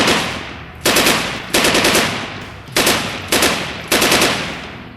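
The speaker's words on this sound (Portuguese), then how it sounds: "Depois, ele recebeu uma chuva de tiros." Five rapid bursts of automatic gunfire, each a sharp loud volley that decays quickly, separated by short pauses.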